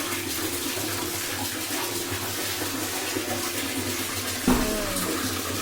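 Hot water pours and splashes steadily while a child is bathed, a continuous running-water wash with a sharper splash or knock near the end.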